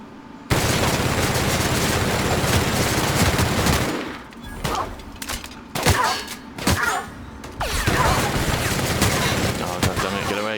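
Sustained automatic fire from a light machine gun in The Outer Worlds, loud and dense for about three seconds, then broken into short bursts and scattered shots with brief gaps, resuming heavily toward the end.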